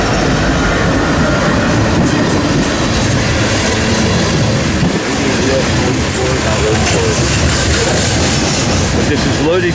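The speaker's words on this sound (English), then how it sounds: "But this is loaded coal heading east on the BNSF Heartland Division once again." A loaded BNSF coal train rolls past heading east on the Heartland Division near Ashland, Nebraska, a loud continuous rumble with rhythmic wheel clatter and faint squeals, close and sustained throughout.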